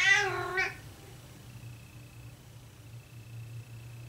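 A house cat lets out a loud drawn-out meow with a rising-falling whine, followed by a second shorter cry, then quiet with a low background hum.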